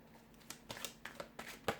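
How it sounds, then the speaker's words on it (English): Tarot cards being shuffled by hand, a quick series of soft papery riffles and flicks, close and quiet, with several crisp snaps in irregular rhythm. "we'll give the cards a shuffle"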